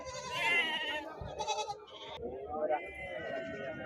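Several male goats bleat close by on a farm in wavering, nasal calls, one after another, with people talking in the background.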